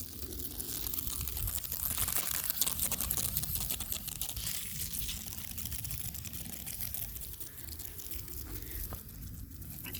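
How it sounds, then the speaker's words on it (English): Water runs from a faucet into a garden irrigation set, a steady close hiss and splash with crackling, dripping texture throughout. "Now turn the top faucet on that one."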